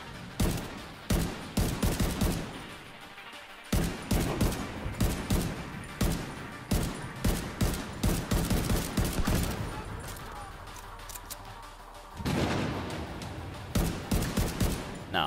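Rapid sustained bursts of minigun fire from the Division 2 video game, loud and dense with brief pauses between volleys, plus a short lull around the middle.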